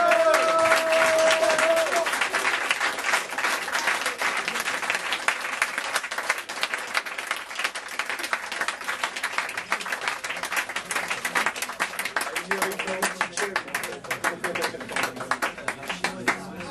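An audience at a slam poetry event in Rennes applauds loudly and continuously for over fifteen seconds, a dense, steady clapping that fades slightly toward the end, with faint voices underneath.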